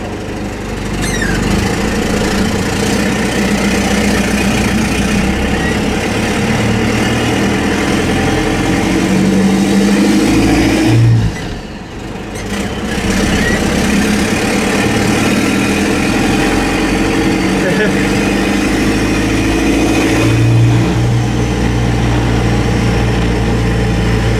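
A Cummins diesel engine in a Ford F-150 pickup idles steadily and close by, a continuous low rumble with a brief dip midway, no one speaking.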